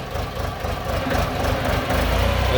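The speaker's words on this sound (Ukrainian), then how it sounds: "мотор трьохциліндровий ютуський" A small three-cylinder diesel engine on a Shifeng 244 mini tractor idles steadily with a low, chugging rumble, constant and fairly close throughout.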